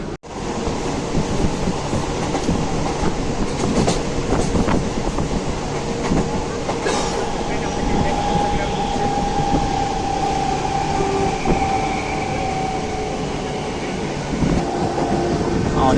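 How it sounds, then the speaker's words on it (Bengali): Inside a Howrah–Barddhaman local train on the move, a loud continuous rumble of wheels on track with rattling carriage, occasional clicks and a faint squeal from the rails, heard from on board without talk. "ট্রেন ঢুকছে"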